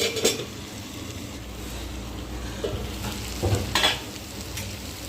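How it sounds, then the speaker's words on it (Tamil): A spoon stirs ivy gourd stir-fry frying in a pan, with a steady sizzle and a few scraping strokes and clinks close by. No one speaks. "இது இடையில கிண்டி விட்டுக்கிறணும்"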